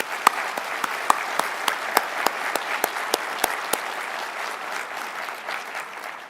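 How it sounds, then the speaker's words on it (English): Steady applause from an audience at a 2025 State of the City address, honouring Mayor Morgan, with a dense wash of clapping and a few louder individual claps standing out near the front, fading slightly toward the end. "I'd like to have another round of applause for Mayor Morgan"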